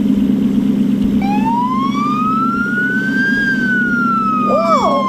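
A police van siren wails loudly and close by, rising in a long sweeping tone before switching to quicker yelps, over a steady low engine rumble.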